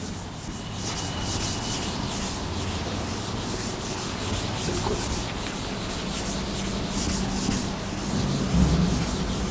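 Steady, continuous rubbing of a duster or eraser against a classroom board, a dense broadband scrape that holds at an even level for several seconds with a slight swell near the end, no voices over it.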